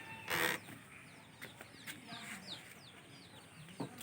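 Local chickens on a small netted farm in Assam clucking and chirping, with light repeated calls from young chicks and a few louder clucks up close, over quiet background.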